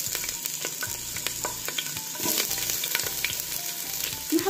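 Onion sizzles in hot oil and ghee in a soup pot with pieces of lamb carcass, a steady close frying hiss broken by stirring scrapes and soft knocks, with no talking.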